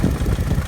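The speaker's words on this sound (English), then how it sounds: "rev the engine" A car engine rumbles close by with a low, pulsing throb, brief and steady.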